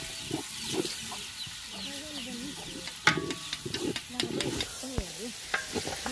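Meat curry is stirred in a large cooking pot, with intermittent scraping and sizzling strokes, while chickens cluck nearby in the background.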